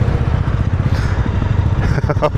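A Royal Enfield Bear 650 scrambler motorcycle on its first ride, with its engine giving a steady low rumble up close, and a voice briefly audible over it.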